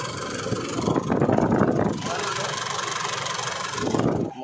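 An Isuzu D-Max engine runs steadily during a throttle valve motor test, a close mid-pitched hum that rises briefly around the middle and again near the end, with voices talking over it.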